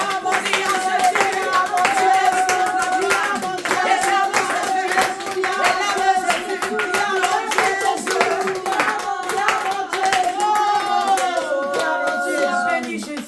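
A church congregation claps steadily in rhythm throughout, loud and close, with singing or music running beneath the clapping in a French-speaking worship service.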